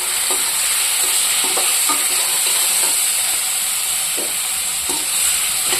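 Okra frying in a pan with dry red chilli powder, cumin and green chilli: a steady, dense sizzle fills the whole stretch, with soft intermittent scrapes of stirring and no voices.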